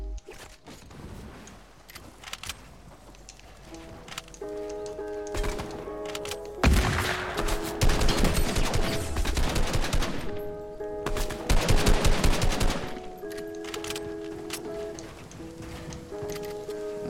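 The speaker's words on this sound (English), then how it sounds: "And here's the new charged shotgun" Shotgun blasts in the video game Fortnite, heard as several loud bursts of gunfire with slow gaps between them for reloading, set over steady game music and tonal effects.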